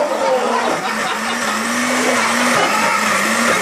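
A kitchen blender runs steadily and loudly, blending a sandwich into a drink, with a constant whirring motor drone and slight pitch wavering.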